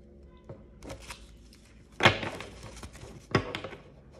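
Oracle cards being shuffled by hand, several short papery riffles and slaps in irregular bursts, two sharper louder snaps standing out, close and otherwise quiet.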